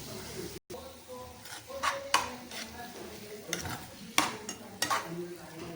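Eggplant bharit being stirred and mixed in a pan, with a spoon scraping in repeated bursts over a soft sizzle and occasional clinks of metal on the pan, close up.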